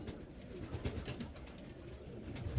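Pet pigeons or doves in a loft give soft cooing and low fluttering murmurs, faint and steady against a quiet background with no talking.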